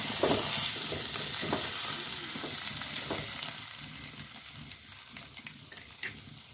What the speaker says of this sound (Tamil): நல்லா ஒன்று சேர கிண்டி விடுங்க. கொஞ்சோண்டு இஞ்சி பூண்டு போட்டுங்க.